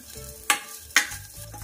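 Grated coconut frying and being stirred in a pan, with two quick scraping strokes over a soft, steady sizzle, close and alone.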